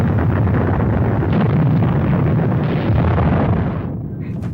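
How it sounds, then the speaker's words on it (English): A loud, sustained explosive roar and rumble as the German submarine U-864 is hit and breaks up in open water, dense broadband noise holding steady for about four seconds before cutting away abruptly. "was an explosion, a pretty high jet of water and smoke"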